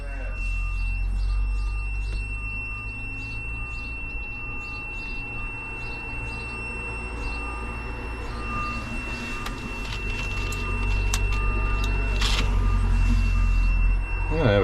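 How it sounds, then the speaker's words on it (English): An aftermarket auto steer system fitted to a 23-year-old Big M tractor beeps in a regular repeating pattern at startup, over a steady low engine rumble and a thin electronic whine, with clanks and voices nearby. "Sorry about the beeping. That only goes off when you start it up."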